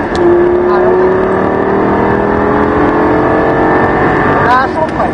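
A Lamborghini Gallardo pulls away on the Nogaro race track, its engine loud and close with a rising, sustained tone as it accelerates, and a voice speaks over it.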